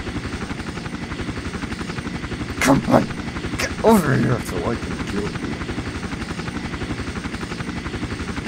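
A helicopter in the video game Iron Storm drones with a fast, steady rotor chop throughout, while someone talks over it in short bursts.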